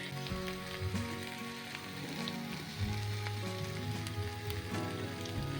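Cauliflower and potato with poppy seeds fry in a pan, giving a faint, steady sizzle with scattered light pops beneath soft background music.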